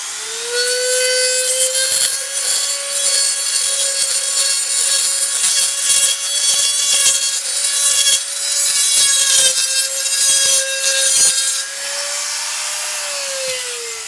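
Screw ends being clipped and sanded off during repair of an Emmaljunga pram canopy, a continuous whining grind with a steady pitch and brief dips, close and loud, with no talking.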